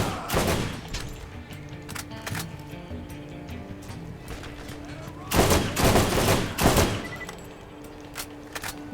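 Gunfire in the video game Borderlands: repeated bursts of shots, some rapid and clustered, with heavier volleys near the middle and sporadic single cracks, all loud and close.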